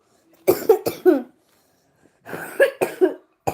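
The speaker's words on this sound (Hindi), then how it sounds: "बहुत खांसी हो रही है यार" Two rapid clusters of close, loud coughing, several hacking coughs each, separated by a brief pause.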